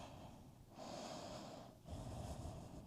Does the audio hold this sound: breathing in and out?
yes